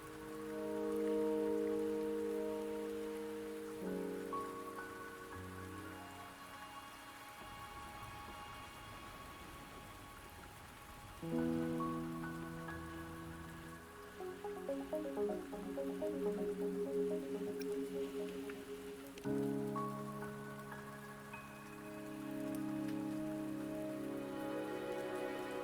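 Steady rain falls in the video game Wuthering Waves, a soft, continuous patter beneath a prominent melodic music score that changes chords every few seconds.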